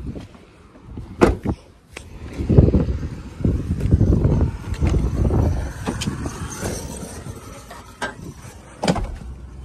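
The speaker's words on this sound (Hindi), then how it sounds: "अब हम गाड़ी स्टार्ट करेंगे" A car engine cranking and turning over, loud low rumbling with a few sharp clicks and knocks, close up, heard alone without talk.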